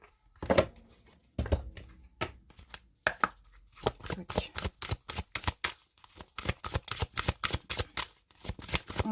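A deck of oracle cards is shuffled by hand, close and crisp, a few separate riffles and slaps at first, then a fast steady run of rhythmic card flicks, without talking.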